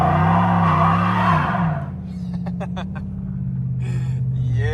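A 2020 Chevrolet Silverado roars through a burnout, engine droning loudly as the tires skid and squeal, then the revs drop to an idle rumble broken by sharp chirps and bursts.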